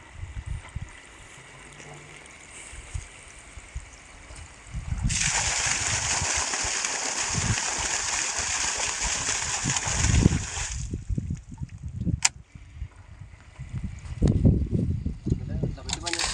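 Water gushing from a borewell pipe run by a 5 hp motor. A loud rushing hiss bursts in midway, holds for several seconds, then cuts off, with voices talking before and after.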